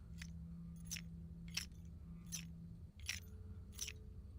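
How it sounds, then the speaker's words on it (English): Metallic rattling of the Scrap Baby animatronic in a Five Nights at Freddy's game, heard as six short, evenly spaced rattling bursts over a steady low hum. "Scrap Baby has metallic rattling."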